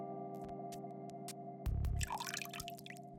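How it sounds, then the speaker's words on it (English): Running bathroom faucet in the video game Goddess of Victory: Nikke, a quiet steady trickle of water under a low hum, with a brief louder splash and dripping toward the end. "The sound of a running faucet can be heard from the bathroom."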